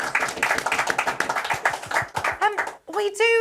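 Brief clapping by a small group on a live football pre-match show, rapid close hand claps under and around talking, then voices take over near the end.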